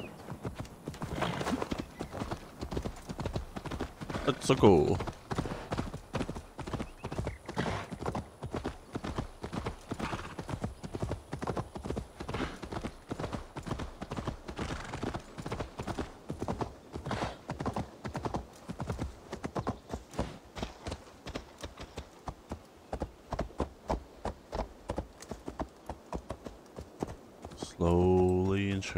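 Hooves beat in a rapid, steady clip-clop as a horse gallops in Assassin's Creed Valhalla, continuing for the whole stretch with an occasional whinny and someone talking now and then over the game sound.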